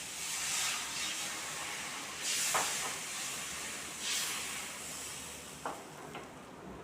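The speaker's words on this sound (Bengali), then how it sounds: "কষানো হয়ে গেছে এখন জল দিয়ে দিচ্ছি" Water poured into a hot pan of fried spices for a vegetarian pointed gourd curry, producing a steady broad hiss and sizzle with a few louder surges and faint stirring clicks, heard close and without talk.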